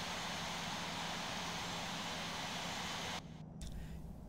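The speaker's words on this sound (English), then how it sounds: "Everybody taxiing to the runway." Steady jet engine roar from airliners taxiing to the runway in Infinite Flight, a constant broad whine and rumble that drops abruptly to a quieter hum near the end.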